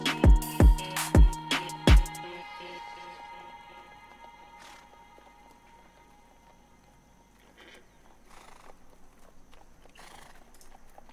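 Horses in a music sample: a quick run of loud, heavy hoof-like thuds opens the passage, then a faint, ringing sustained tail with light scattered noises.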